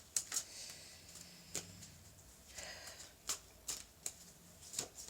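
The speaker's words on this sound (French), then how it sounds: "je vais prendre mon jeu de tarot" Tarot cards being shuffled at close range in a quiet room, with crisp riffling bursts and brief pauses between them, and no voices present.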